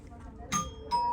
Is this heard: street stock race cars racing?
no